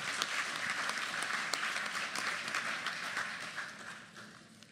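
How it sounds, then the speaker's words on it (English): Sustained applause from a hall of guests honouring a man named Philip at a Greek community gathering, a dense steady wash of many hands that gradually fades toward the end. "A big round of applause for Philip."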